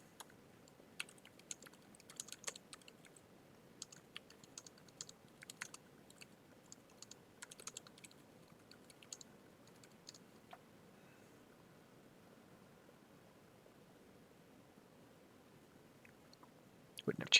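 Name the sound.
typing on a computer keyboard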